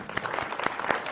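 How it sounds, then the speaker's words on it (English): Audience applause at a community gathering, a short burst of steady clapping from a crowd, fairly close and even in level throughout. "give yourself a round of applause for being here and being present in this moment"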